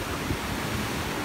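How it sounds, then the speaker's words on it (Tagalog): Sea waves wash against the shore near a seaside house, giving a steady, loud broadband rush of surf with no distinct breaks and no voices. "Tignan niyo yung alon, no."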